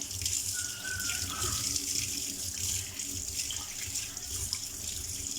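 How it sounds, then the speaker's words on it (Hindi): Water runs steadily from a tap into a kitchen sink being cleaned, a continuous rushing splash with no voices. "अब इसके ऊपर हमने पानी करना है।"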